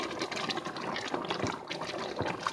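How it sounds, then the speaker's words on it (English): Water is poured from a kitchen vessel into a pot of red beans on the stove, a faint, steady splashing trickle heard alone for a few seconds. "I'm going to add 2 cups of water"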